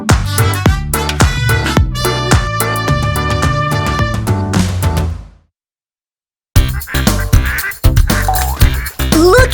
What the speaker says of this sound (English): The duck goes, quack,